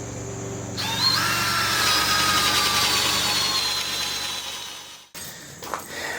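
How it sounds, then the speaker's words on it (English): A power drill with a paddle bit whines steadily at close range for several seconds, its pitch sagging slightly as it bores into wood, then cuts off abruptly, leaving brief quiet handling noises. "just going to use a paddle bit, and I'm going to go in there as deep as my bit will drill"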